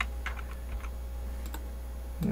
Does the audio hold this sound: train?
no